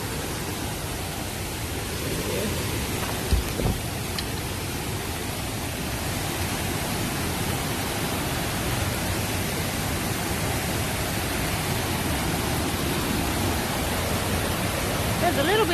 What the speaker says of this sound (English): it sounds like the water's really rushing over the backside of this dam